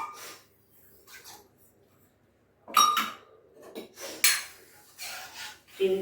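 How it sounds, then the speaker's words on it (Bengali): A spoon stirs a bowl of sugar in a pot for gulab jamun syrup, giving a few quiet metallic scrapes and clinks in short, scattered bursts between soft gaps. "আর তারপরে এখানে আর 1 বাটি চিনি দিয়ে দিলাম, মানে চিনিটা একটু নাড়বো"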